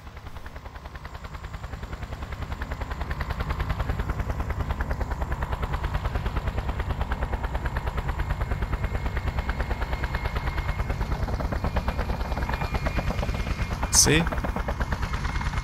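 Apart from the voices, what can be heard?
helicopter and machine gun fire, video game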